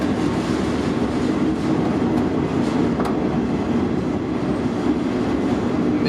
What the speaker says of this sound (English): You can feel the train pulling to a halt